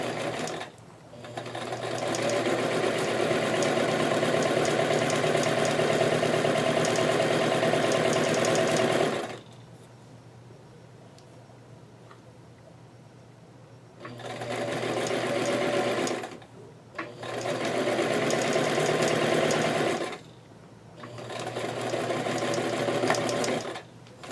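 A sewing machine stitches a seam on doll clothes, running in a loud steady whir for several seconds, then stopping and starting in three shorter bursts with quiet pauses between them. The sound is close and there is no talking.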